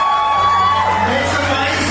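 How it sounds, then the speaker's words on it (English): A medical college event crowd whoops and cheers, voices shouting and bellowing over scattered applause, with a whistle-like tone sliding down early on. "all others, please give a round of applause"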